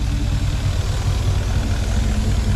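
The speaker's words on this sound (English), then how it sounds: "It's funny when this thing's idling, the turbo comes to a stop because there's not really a whole lot of airflow." Turbocharged LS-swapped Ford Ranger engine at idle, a loud, deep, even rumble close by with a steady lumpy pulse and no talking.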